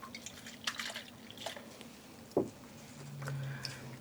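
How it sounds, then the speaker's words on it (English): Water drips and trickles faintly from dark-dyed yarn being squeezed by hand after rinsing, a few soft scattered drops and patters in a quiet room. "I'm just squeezing the water out, not wringing the yarn because I don't want to damage it."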